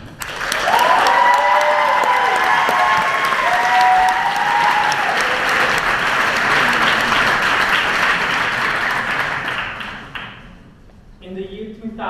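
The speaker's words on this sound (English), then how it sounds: "Warm applause for Roman Pable." An audience at the European Forum Alpbach Speakers' Night applauds a speaker, loud steady clapping that carries on for about ten seconds and then thins out, with some voices underneath.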